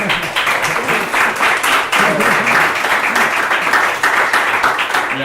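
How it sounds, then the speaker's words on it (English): Another round of audience applause at a Salesforce conference session, loud and continuous clapping from a crowd nearby, with a few faint voices mixed in beneath it. "Second round of applause for Pablo"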